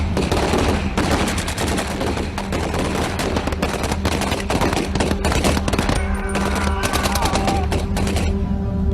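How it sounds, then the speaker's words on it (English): A dense, loud burst of rifle and machine-gun fire from a D-Day dramatization of the first Allied shots, with rapid cracks and bursts filling the whole stretch and no speech over it. "fires the first Allied shots of D-Day, killing one of the sentries"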